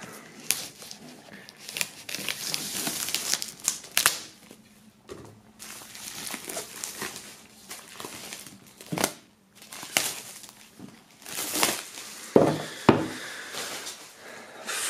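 Plastic shrink-wrap is peeled and torn off an album box set, crinkling and crackling in uneven close bursts with soft handling knocks and a few sharper snaps toward the end.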